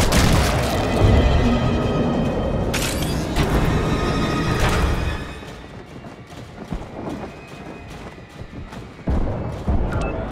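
Game explosions and booms as the hive is destroyed in Warframe Hive Sabotage, loud heavy blasts with sharp bursts and rumble for the first five seconds, then quieter scattered impacts and a final hit near the end.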